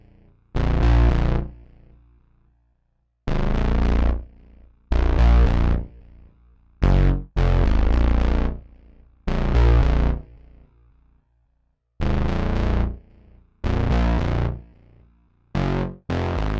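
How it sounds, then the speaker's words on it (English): Heavy distorted low synth bass from the Chroma VST default preset, played at a very low octave. Punchy sustained notes of varied length are separated by clean silences, and the tone is gritty and buzzing with rich overtones. "I used that at a very low octave to replicate like a really distorted bass type of sound."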